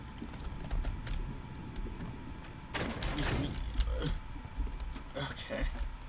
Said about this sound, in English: I'm still typing something out when you finish this.